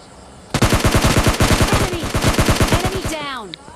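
A Tommy gun fires in PUBG Lite, a loud close burst of about thirty rapid, evenly spaced shots lasting over two seconds, followed by a short ringing tail.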